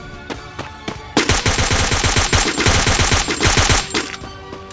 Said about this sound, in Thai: ยิงเข้าวงมา